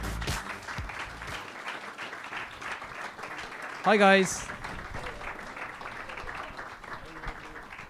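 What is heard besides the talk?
audience applause welcoming panel to stage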